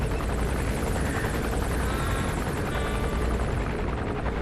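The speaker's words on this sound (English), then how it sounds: "that's enemy a Russian gunship. gunship helicopter." A Russian gunship helicopter in Metal Gear Solid V: The Phantom Pain roars with loud, steady rotor chopping throughout, close and dominant, with no voices over it.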